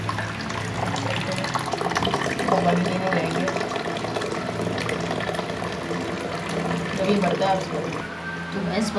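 Water running and filling a container from a tap outdoors, a continuous splashing, gurgling flow heard up close with steady loudness and mild surges, alongside background activity.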